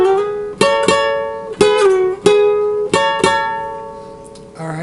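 Electric guitar plays a short lick from the next section of a song with an A, plucked notes and quick double attacks in a lively rhythm, close and clear with no talking.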